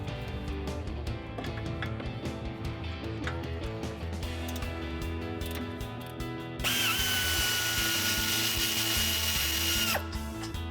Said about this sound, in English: let me get my air ratchet in here